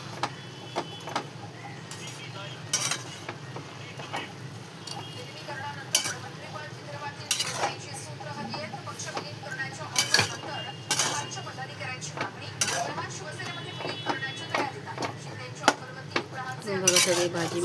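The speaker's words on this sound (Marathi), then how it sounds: "आणि मीठ टाकल्याच्या नंतर मस्त असं मिक्स करूया आपण सगळी भाजी." A spoon scrapes and clinks against a pan while salted fenugreek leaf vegetable is stirred, with intermittent metallic knocks over a soft background hiss, close and moderately loud.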